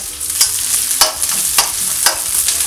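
Diced ginger and onions sizzle loudly in hot oil while being stir-fried for cashew nut chicken, with regular scraping stir strokes about every half second over a constant frying hiss.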